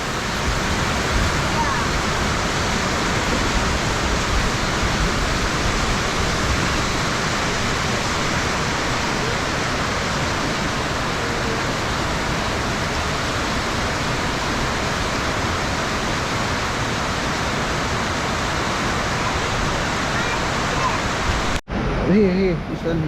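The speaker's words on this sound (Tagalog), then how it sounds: "Malas, nag-ulan, no?" Steady, heavy rainfall hisses continuously at a viewpoint in Koronadal City, Philippines, a dense wash of noise with no gaps, cut off abruptly near the end.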